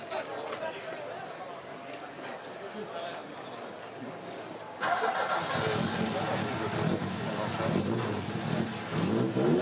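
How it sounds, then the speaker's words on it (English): A Saab 99 EMS engine on Weber 48 carburetors at an outdoor Saab museum festival fires up midway, then runs and revs with a rough, loud note over faint background voices and crowd ambience. "We would like to hear proper Weber 48 carburetors in action as well here."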